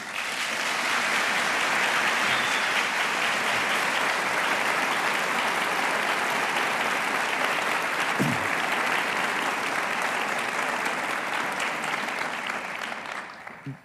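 Sustained applause from a lecture audience welcoming Larry Jacobs and Daniel Ellsberg to the stage, dense and steady throughout before tapering off at the very end.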